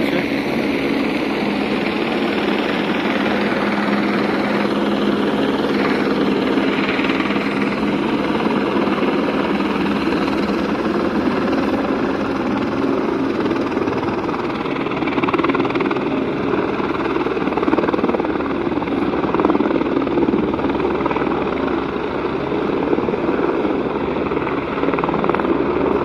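A helicopter arriving at Kedarnath, the Himalayan pilgrimage site, with a loud, steady rotor and engine drone that holds for the whole stretch and stays close, with no voices.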